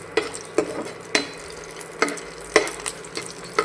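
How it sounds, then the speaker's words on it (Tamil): Ingredients sautéed in a pan until golden, sizzling oil under regular sharp scrapes of a spatula stirring the pan, close up, roughly every half second. "நல்லா இது பொன்னிறமாகிற வரையும் வதக்கணும் ஃப்ரெண்ட்ஸ்."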